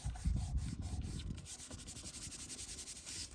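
Fabric of a pocket embellishment rubbed briskly by hand, a close, steady scratchy back-and-forth rubbing that runs continuously without any voices.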